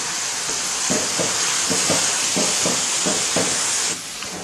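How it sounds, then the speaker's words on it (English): Apricots with fresh sage cook in a hot pan, making a loud, steady sizzle and hiss close by, with a series of soft, regular stirring strokes through the middle that stop just before the end. "I'll cook the apricots just 2 or 3 minutes"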